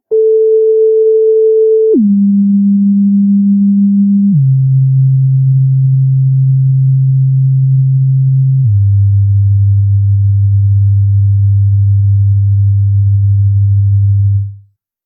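A steady pure electronic sine tone drops in pitch in several steps from 440 Hz, settling into a low, sustained 100 Hz hum that holds for several seconds before cutting off.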